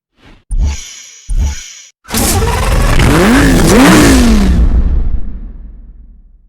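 A Lamborghini V12 supercar revving hard in the Need for Speed Hot Pursuit Remastered racing game, loud and close: brief throttle blips first, then a sustained rising engine roar with gear-change dips that fades away.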